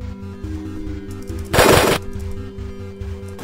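A single short, loud burst of gunfire bursts from a Borderlands browser game over a steady looping background music track.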